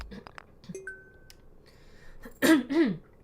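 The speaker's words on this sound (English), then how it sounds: "Sorry guys, got a bit of a cough tonight." A man coughs twice in quick succession near the end, loud and close, after a quiet stretch with faint clinks and small indoor sounds.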